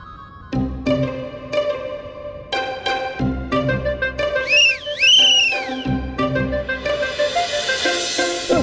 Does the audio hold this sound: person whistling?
yes